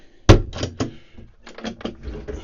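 A wooden cutlery drawer aboard a 2004 Hardy Commodore 42 motor yacht slides open with a sharp knock, followed by a few lighter rattles and clunks as it moves, close by and fairly loud.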